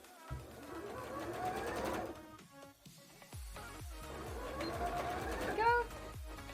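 A sewing machine stitches a Lara Croft costume bra in bursts of rapid, close mechanical whirring, pausing briefly between runs while a person talks quietly over it.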